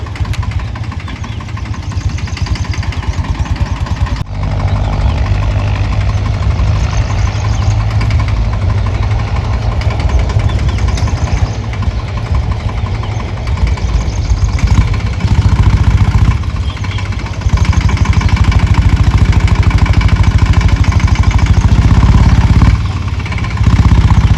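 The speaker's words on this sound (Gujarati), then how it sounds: "તો આ ટ્રેક્ટર પહેરે મગફળીઓ જો." A small tractor engine chugs loudly and continuously close by while harvesting groundnuts, with a knocking, vibrating rhythm and brief shifts in load; no voices.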